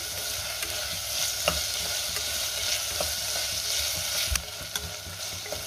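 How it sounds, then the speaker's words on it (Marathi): Tomatoes sautéing in a pan over ginger-garlic for a chicken rice dish, giving a steady loud sizzle punctuated by irregular scrapes and taps of the spatula, with one sharper knock near the end. "त्यात टोमॅटो घालूया आणि टोमॅटो चांगला 2 मिनिटं मी परतून घेणार आहे"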